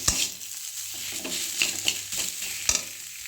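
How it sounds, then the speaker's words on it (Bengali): Spiced potato filling with peanuts and salt for samosas is stir-fried in a pan: a close, constant sizzle under repeated spatula scrapes and knocks, with no speech. "এবার এটি ভালো করে কষিয়ে নেব।"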